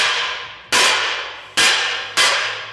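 Three sharp, loud hammer strikes ring on a metal cart frame built to hold oxy-acetylene tanks, each a close metallic clang with a fading ring, spaced unevenly.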